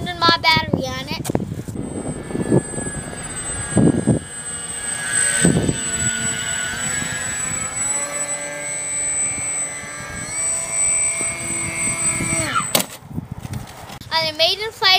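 A slightly heavy RC plane driven by a Grayson Hobby MegaJet motor on a 1300 mAh battery makes its maiden flight, its motor whining steadily with rising and falling pitch, while people talk over it and wind buffets the microphone.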